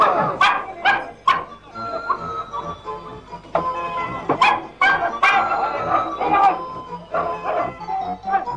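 A strong dog chasing a rat in a betting arena, with repeated loud barks, yips and whimpers in irregular bursts, close by, among crowd noise and voices.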